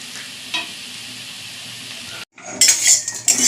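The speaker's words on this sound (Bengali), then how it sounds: "এই যে মশলাগুলো সুন্দর করে ভাজা হয়ে গেছে" Spices frying in a pan for a vegetarian rice dish, a steady close sizzle with clinks of a stirring utensil, briefly cut off before a brighter, louder burst of frying and scraping returns.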